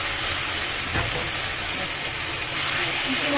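A ground spice paste hits a hot pan of onions and sizzles hard, a loud, steady, close hiss of frying that runs unbroken throughout.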